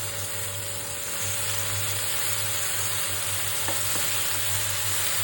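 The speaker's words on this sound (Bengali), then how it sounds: "বাড়িয়ে এই মশলাটা ভাজা ভাজা করব।" Spice paste fries in mustard oil, giving a continuous close sizzle with a faint steady hum beneath it and a couple of light stirring clicks partway through.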